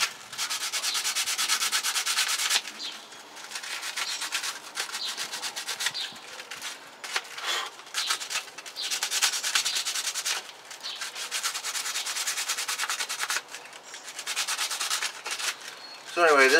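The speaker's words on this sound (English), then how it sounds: "I just got some sandpaper here. Just gonna kind of sand" Sandpaper rubbed by hand over a gourd to remove mold, producing loud, raspy scratching strokes in a steady back-and-forth rhythm with brief pauses between passes.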